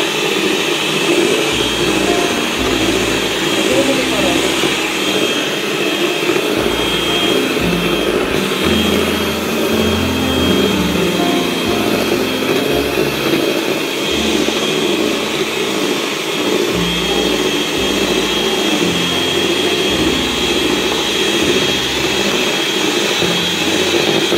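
An electric mixer blends cake batter into eggs, giving a loud, steady motor whir that runs without pause from start to finish, with no voices.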